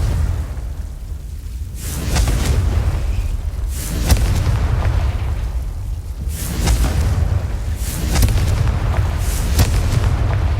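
Explosive spell blasts from the Hogwarts Legacy video game burst repeatedly over a rumbling low backdrop, several booming hits arriving every couple of seconds, loud and close.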